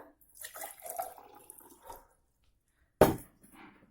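Water splashes and trickles onto sand for a couple of seconds, then a short sharp pour or splash lands after a pause, close by.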